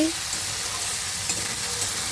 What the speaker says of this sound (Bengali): এই যে বরবটি আলু ভাজা করছি